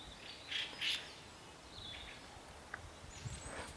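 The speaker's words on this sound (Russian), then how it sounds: "Птички все громче и громче поют" Birds chirp and tweet in the open air along a road near the Gulf of Finland around Komarovo and Zelenogorsk. The short calls sound faint and distant over a soft background hiss.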